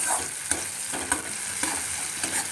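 Onion stirred as it fries for a gondhoraj tilapia curry: a constant bright sizzle broken by several distinct scraping strokes of a spoon against the pan, close up, with no talking.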